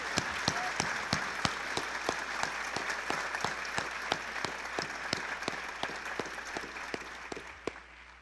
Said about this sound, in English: please join me in applauding these amazing students one more time